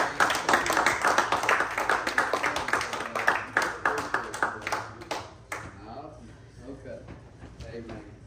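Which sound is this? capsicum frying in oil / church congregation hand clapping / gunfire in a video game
church congregation hand clapping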